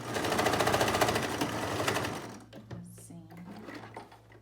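A sewing machine stitching fabric for a kitchen piece runs in a fast, loud mechanical chatter for about two seconds, then stops, leaving quieter handling clicks and a brief spoken word.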